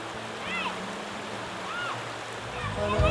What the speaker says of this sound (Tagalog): nagbanlaw sila sa ilog